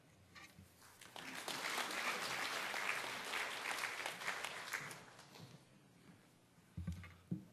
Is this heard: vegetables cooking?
no